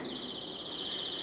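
A steady, shrill whistled tone from a Wurlitzer theatre organ's bird whistle effect warbles continuously in a high register, like a mechanical bird whistle, sounding alone without any talk.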